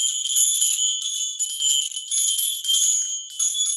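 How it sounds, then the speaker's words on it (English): Small bells jingle and tinkle continuously at the close of a meditation and yoga session, bright and high-pitched, ringing in overlapping shimmering strokes close by with no one speaking. "As I ring the little bells."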